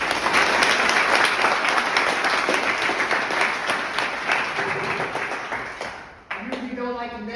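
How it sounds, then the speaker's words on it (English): Audience at a youth summer institute gathering at Concordia University claps loudly and steadily for the council, dense applause fading near the end as a voice begins speaking. "we please give the council a round of applause"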